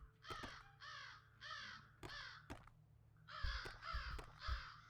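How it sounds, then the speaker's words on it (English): Crows in the video game Sense: A Cyberpunk Ghost Story give repeated harsh caws in two clusters, several calls each, clear and moderately near over a low steady hum. "Oh, I hear crows."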